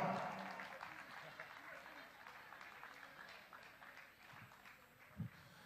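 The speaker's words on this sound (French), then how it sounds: "Mais applaudissez pour vous, c'est pas mal." An audience applauds at a concert inauguration, a dense wash of clapping from many hands that slowly thins over several seconds, with a single louder thump near the end.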